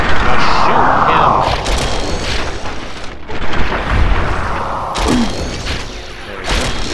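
Booming gunfire and thuds in Fallout 3 combat at Oxford Ponds, loud and dense throughout, with a voice speaking over the shots.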